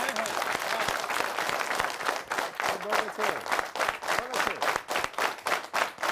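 A Republic Day crowd in India claps hard with raised hands, a loud sustained burst that settles into rhythmic, evenly spaced group clapping, with voices beneath.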